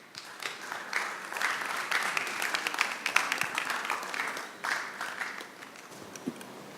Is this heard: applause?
yes